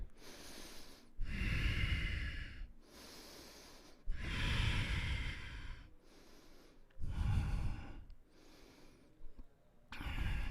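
A yoga practitioner breathes slowly and deeply through a flow, with four long, loud, close airy exhales and inhales in an even rhythm separated by quieter pauses.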